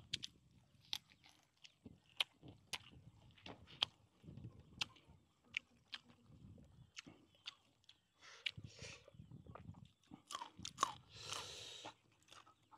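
Crunchy chili flowers bitten and chewed up close, with sharp irregular crunches and quieter chewing between them, fairly faint and with no talking.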